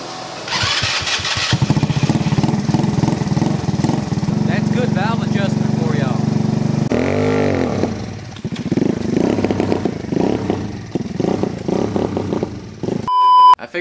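A GY6 150cc dune buggy engine with a new airbox and CVT mod cranks and catches, then runs with a loud, rough, revving motorcycle-like putter that dips and recovers, ending with a few electronic beeps.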